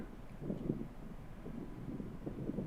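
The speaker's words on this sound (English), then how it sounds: "It was really windy today." Wind blows steadily across an outdoor disc golf course in constant 15 to 20 mph gusts, a low rumbling buffet on the microphone that runs continuously with no talk.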